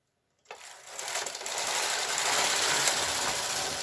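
After a moment of silence, a knitting machine carriage starts sliding across a row of a men's garment back, building into a continuous, close mechanical whirring rattle that stays even to the end.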